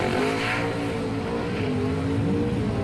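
A loud drag racing car engine at a dragway drones steadily at high revs, a continuous throaty roar with no voices over it.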